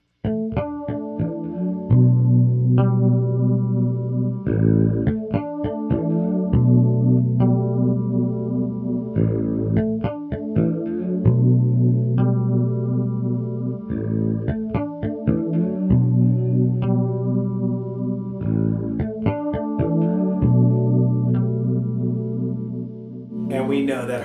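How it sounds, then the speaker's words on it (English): Fretless bass guitar through a chorus effect, warm and thick analog tone, playing a steady melodic line with sliding notes and shimmering doubled texture, close and alone throughout. "And of course, chorus and fretless go hand in hand."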